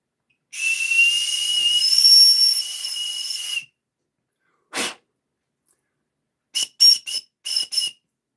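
A weenie whistle blows a long, shrill steady blast of about three seconds, then after a pause a sneeze-like burst, followed by four short quick toots in a row, loud and close with no talk.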